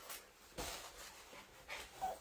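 Dogs panting faintly in quick, rhythmic breathy puffs, soft and somewhat distant, with no one speaking.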